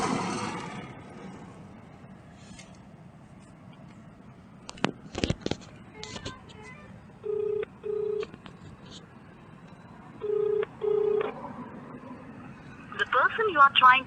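A phone call is placed twice: short keypad tones, then two pairs of steady ringback tones separated by a pause, a busy signal at the end, with someone speaking quietly between them.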